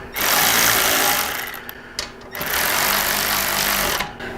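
Impact-style power tool running down bolts on an adjustable exhaust bracket for a motorcycle with stretched bags, two loud close bursts of rapid buzzing hammering separated by a short pause, with faint clicks between.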